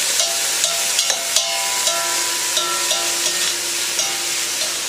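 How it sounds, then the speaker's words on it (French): Beef pieces for boeuf bourguignon browning in a hot pan over high heat, a steady close sizzle with scattered stirring scrapes and soft clinks as the meat is turned. "Retournez les morceaux pour bien faire rissoler"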